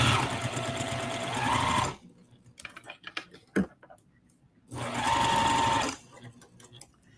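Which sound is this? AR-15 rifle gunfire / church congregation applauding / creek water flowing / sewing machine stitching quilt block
sewing machine stitching quilt block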